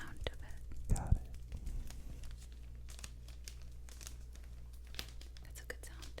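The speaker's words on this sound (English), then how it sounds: "You gotta touch it like this to get the plastic sound of it." Fingers tapping and rubbing a plastic vinyl record sleeve, close crinkly crackles with a louder cluster near the start, under soft whispered talk.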